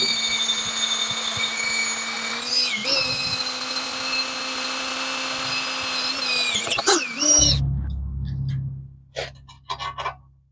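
A steady high-pitched drill whine runs for about seven seconds, rises briefly, then cuts off, followed by a low rumble and a few short clicks.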